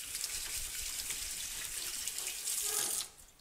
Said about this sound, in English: Now, let me rinse my hands off.